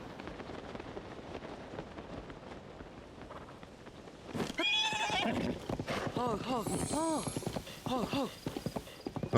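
A horse in Zelda: Tears of the Kingdom clops along on hooves under background game ambience, then lets out loud, wavering whinnies and snorts that repeat in several bursts, close and prominent.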